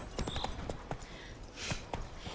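Horse hooves clip-clopping in The Witcher 3 video game, a quick run of close hoof knocks, briefly interrupted by a soft whoosh before a few more steps.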